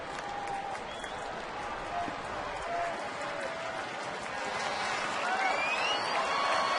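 A rowdy crowd at a Texas Rangers home game against the New York Yankees keeps up a steady roar of cheering and clapping deep into extra innings. It builds slightly toward the end while a commentator talks over it.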